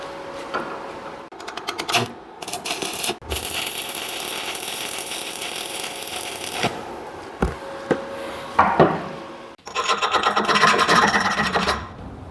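Stick welding with a 2.5 mm electrode on a Lynus LIM 160 welder: close crackling, sizzling arc bursts in several runs, broken by brief stops and strikes.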